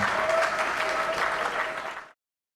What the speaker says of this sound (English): Let's all give the Pop Punk Kid a round of applause